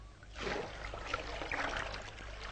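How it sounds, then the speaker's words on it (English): Water poured from a big leather bag into a stone channel in old Bikaner, a steady broadband splashing rush that swells after a quiet start and runs on continuously, fairly close, with no voices. "It is poured into a stone channel, and it runs along this channel to the town."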